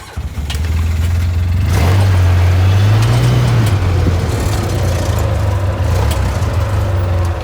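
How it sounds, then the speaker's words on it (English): A vehicle's engine runs steadily as it drives slowly through a daytime haunted farm attraction, a loud continuous low drone with a slight rise in pitch partway through, no voices present. "So you may be hearing the engine, but that is okay."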